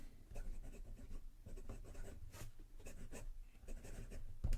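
Broad steel fountain pen nib scratching across paper in a quick writing sample, a soft close continuous scritching with brief pauses between strokes, alone without talk.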